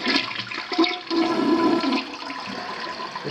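A household toilet flushing, installed close to a cabinet, with a steady rush of water and a gurgling siphon swell in the middle before the flow settles into a quieter refill, heard alone and up close.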